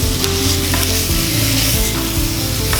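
Chicken curry frying in a pan as masala spices are stirred and folded through, giving a steady, close sizzle with soft scraping stir sounds throughout and no talking.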